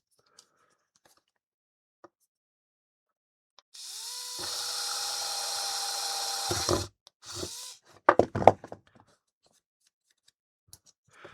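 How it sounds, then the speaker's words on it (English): A small high-pitched drill, a HOTO SnapBloq modular tool, whines steadily for a few seconds drilling a small test hole in a circuit board, winding down, followed by clicks and clatter of handling. "what we're going to do is just drill a little hole there, little test hole"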